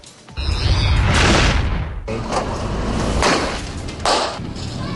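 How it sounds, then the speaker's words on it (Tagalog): Illegal boga and piccolo firecrackers set off by youths in a street in San Andres Bukid, Manila: a rapid sequence of loud booming blasts and cracks, overlapping and echoing, close and powerful. "nasaksihan ko ang may 20 minor de edad na walang habas na nagpapaputok ng maliit na mga boga at piccolo"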